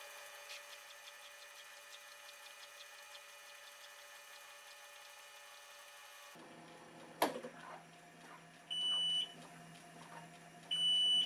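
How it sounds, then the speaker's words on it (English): An NxStage One home hemodialysis machine sounds a few short electronic beeps as it finishes dispensing water, the tones rising over a steady background hum of equipment after a brief clatter. "Okay, so it's beeping at me. It's telling me it's done dispensing water."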